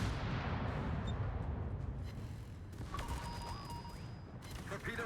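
Secondary guns fire from a warship in World of Warships, heavy booms and blasts rolling over a loud droning battle background, with short tonal game cues near the end and no talk.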